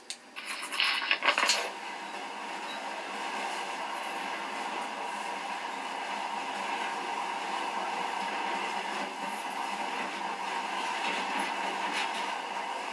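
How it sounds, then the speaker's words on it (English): Metro: Last Light's monorail rumbles steadily along with a continuous rolling drone and faint rattling, after a brief clatter at the start, with no talking. "In the past, trains were ordinary things. But now, this monorail seems magic, doesn't it?"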